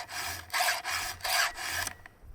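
Steel round file rasping across a chainsaw chain during heavy sharpening, three close, rhythmic rough strokes of about half a second each with short pauses between, ending in quiet.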